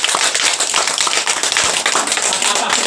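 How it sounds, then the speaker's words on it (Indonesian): Audience clapping at a parish welcoming ceremony for a priest, a dense, steady burst of many hands throughout, loud and close. "sekali lagi kita tepuk tangan"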